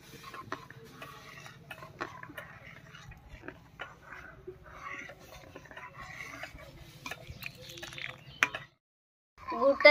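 Payesh with nolen gur date-palm jaggery stirred in a pan, a spoon scraping and clinking against the metal in steady strokes under a low hum, close and fairly quiet, stopping near the end.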